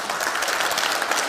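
An audience applauds a law professor at the close of a presentation at a political forum, with a short, dense burst of steady clapping at even loudness and no voices over it.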